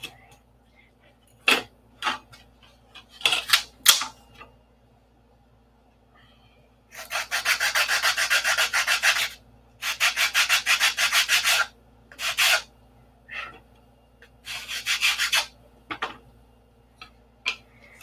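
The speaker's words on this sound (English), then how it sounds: "Dan, get out there in the garage and start sanding" Bursts of rough, broadband sanding in a garage, several passes each lasting a second or two, separated by pauses and a few sharp clicks.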